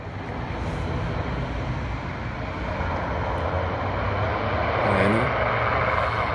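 A propeller airplane passes overhead as a steady, broad engine drone that lasts throughout and swells slightly near the end. No one speaks.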